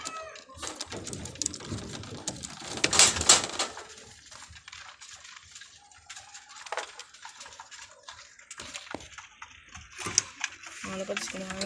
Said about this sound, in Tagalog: Mga kalapatids, kumakain sila.